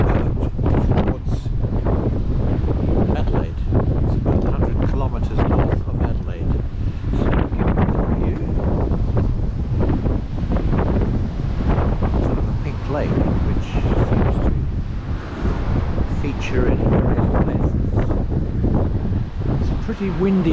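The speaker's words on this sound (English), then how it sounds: "pretty windy day today" Strong gusting wind buffets the microphone near Adelaide, Australia, throughout, a loud, rough roar that never lets up.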